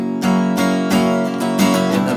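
Acoustic guitar strums the chorus chords of a song, with full strummed chords changing roughly every half second to a second, close and steady with no voice over them.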